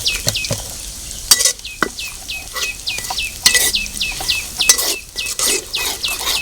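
Crushed gathiya and masala are stirred in a pan, giving soft scraping and stirring with a light sizzle, while birds chirp repeatedly in the background.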